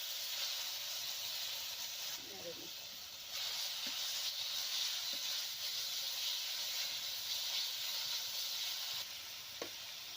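Ground tomato paste added to ginger and garlic frying in oil, a steady hissing sizzle that swells as the tomato goes in, with a few light clinks of a utensil.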